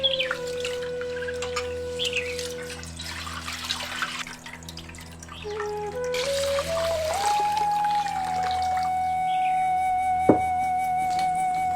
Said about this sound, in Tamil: அரிசியும் பருப்பும் வேக வைக்கிறதுக்காக கொஞ்சம் தண்ணிய பானையில உலக்காய வச்சிருவோம்.